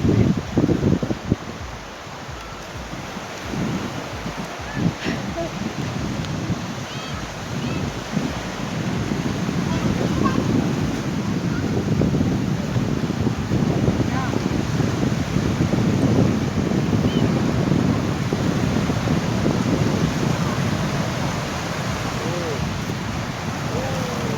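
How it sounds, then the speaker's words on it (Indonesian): Waves wash and roar continuously along the shore at Kepuh beach, Pasir Panjang, while wind buffets the microphone, steady and loud throughout. "ini suasana di pantai Kepuh"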